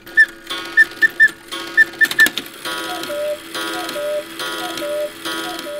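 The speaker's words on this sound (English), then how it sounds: "on the hour, it'll do the quail and then the cuckoo" Handmade Black Forest cuckoo clock striking the hour: a series of short two-note quail calls, followed by slower, repeated cuckoo calls over a steady whirring mechanism. Close and clear, with no talk.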